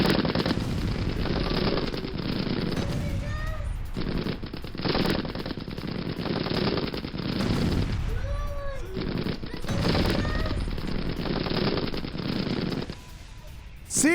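Gunfire during attacks in Syria, repeated bursts of rapid machine-gun fire in loud sustained volleys with short pauses between, some distant shouting mixed in.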